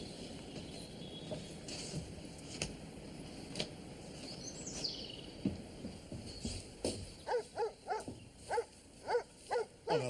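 Guard dog barking on a 1941 wartime site, a rapid run of loud, sharp barks breaking out near the end after a stretch of quieter ambient noise.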